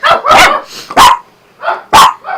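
A dog barks loudly outside, about four sharp, close barks in an uneven rhythm, heard alone with no talking.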